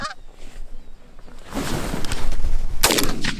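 Shotgun blasts ring out during an early-season goose hunt in New York, a loud outdoor burst near the end with geese honking and calling around it.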